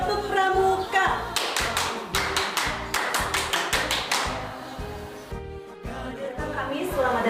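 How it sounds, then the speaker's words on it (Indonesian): Indonesian Scout clap, tepuk pramuka, performed by a group at a school Scout lesson, a crisp rhythmic pattern of claps and thumps in repeated fast bursts that tapers off, with talk following. "mari kita buka dengan tepuk pramuka"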